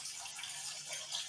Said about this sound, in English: he's putting water in Regan's bowl